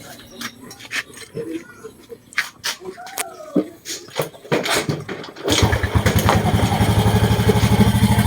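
A Honda XRM125 motorcycle, freshly cleaned carburetor, coughs and starts after scattered clicks and taps, then settles into a steady, close idle as someone talks over it.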